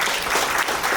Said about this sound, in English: Please give an applause to Chloe Breyer